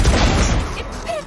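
A grenade explodes in a Valorant-style shooter game, a single loud booming blast with a rumbling low tail that fades over about a second.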